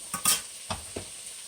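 Onions sautéing in a pan, seasoned with Gold Mountain seasoning, with a soft sizzle under a few quick scraping stirs of a utensil against the pan, close and brief.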